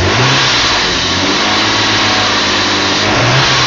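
A BMW 525 E34 Touring's engine runs loud and close, a steady mid-pitched hum with slight swells in revs and no one speaking.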